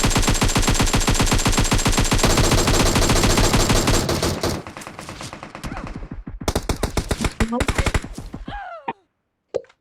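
Rapid automatic gunfire from a battle royale video game, loud and dense bursts that thin into scattered single shots and short volleys, ending in near silence.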